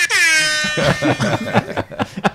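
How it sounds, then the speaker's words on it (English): A blaring air horn blast opens, then breaks into rapid stuttering repeated honks, loud and close. "Kyle rolls around with his own Soundboard. Vegas DJ sound effects."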